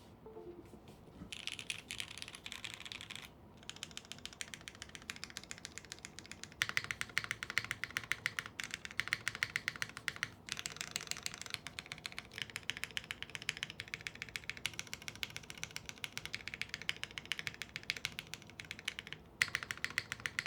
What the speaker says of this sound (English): Typing test.